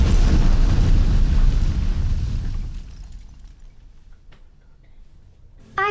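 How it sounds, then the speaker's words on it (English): An edited-in explosion sound effect with a loud, deep rumbling boom at the start that slowly decays into a faint tail, followed by a sudden short burst at the very end. "And then just kind of like edit in a explosion."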